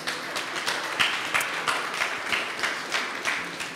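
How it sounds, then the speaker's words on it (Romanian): Audience applause at a youth electoral forum for a quiz winner, a moderate, steady patter of many hands clapping in a room, with faint rhythmic peaks and no talk over it. "Aplauze, vă rog, pentru domnul Alexandru."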